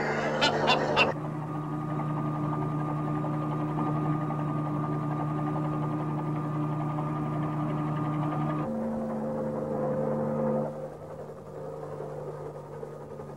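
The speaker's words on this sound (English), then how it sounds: "that chopper makes nearly as much noise as that preacher man" A steady mechanical drone with strong low tonal hum runs throughout, like a hovering helicopter engine, shifting pitch slightly near the end.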